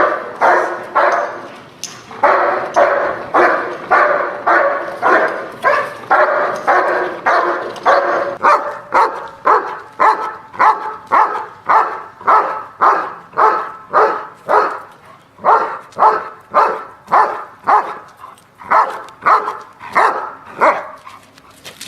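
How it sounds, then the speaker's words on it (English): A large protection dog barks continuously and forcefully at a decoy during training, a long steady run of deep, rhythmic barks close by. "the dog will circle us, rah, rah, and keep barking at the decoy"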